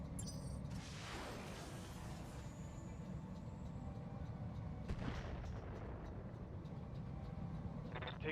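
Heavy booming weapons fire from mechs in the Battletech 3062 game, with two rumbling blasts a few seconds apart over a steady low mechanical drone.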